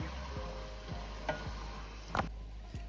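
A spoon scrapes and stirs through a creamy white cheese sauce in a pan, with soft repeated strokes over a faint sizzle and a couple of sharper clinks.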